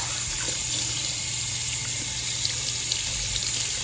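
A sink tap runs steadily while hands are rinsed under it, a constant hissing water stream with faint splashes, close and unbroken.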